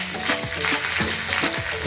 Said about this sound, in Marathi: राई जिऱ्याचा तडका देते.